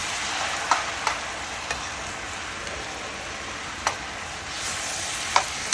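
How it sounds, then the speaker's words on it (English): Chow mein noodles with soy sauce are stirred in a frying pan: a steady close sizzle with scattered light scraping clicks from the utensil, and no talking. "I'm gonna stir it up now"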